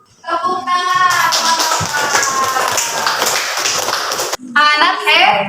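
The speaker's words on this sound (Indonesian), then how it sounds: "tepuk tangan buat Nova dong" Children and a teacher clap together in a classroom as a pupil named Nova is applauded, a dense burst of hand claps lasting several seconds, with children's voices singing or chanting just before and after.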